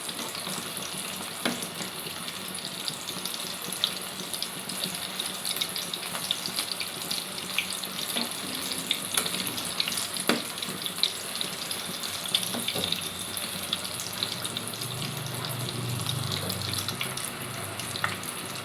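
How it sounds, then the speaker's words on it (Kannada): Chicken kebab pieces fry in oil over a low flame, giving a steady, even sizzle and bubbling that runs unbroken and fairly soft, with faint stirring clinks and no voices. "ಸೊ ಸಣ್ಣ ಉರಿಯಲ್ಲಿನೇ ಇದನ್ನು ಫ್ರೈ ಮಾಡ್ಕೋಬೇಕು, ಯಾಕಂದರೆ ಚಿಕನ್ನು ಒಳಗಡೆಯಿಂದ ಪೂರ್ತಿಯಾಗಿ ಬೇಯಬೇಕು"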